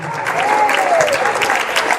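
Loud, dense applause from a church congregation during a Spanish-language worship service, filling the whole moment with a faint sustained tone running underneath.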